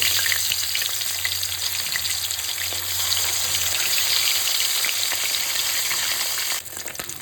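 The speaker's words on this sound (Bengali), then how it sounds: "ওই একই তেলে ছোটো ছোটো বাটা মাছগুলোকে ভাজা করে নেবো।" Small bata fish fry in oil, a loud continuous crackling sizzle that holds steady for several seconds before dropping slightly at the end, with no talk.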